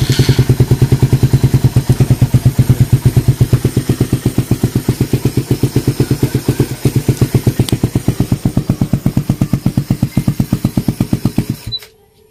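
A Suzuki Raider Fi motorcycle engine with a stock pipe and a 40mm RG CNC throttle body runs close and loud, with an even rapid pulsing idle throughout before cutting off near the end.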